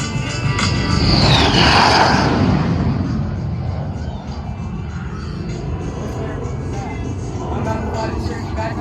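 A single airplane passing low over the field at the North Alabama AirFest airshow, a broad engine roar that swells loudly over the first two seconds and then fades to a steady rumble.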